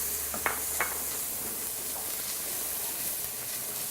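Chopped onion and celery sweat gently in a pan, giving a soft, steady sizzle with a couple of faint clicks from stirring near the start, fairly quiet and with no talking.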